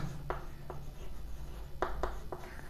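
Pen strokes on paper while working a geometry proof about equal angles in a triangle, a few short scratchy marks in loose bursts, close and fairly quiet, with no voice over them.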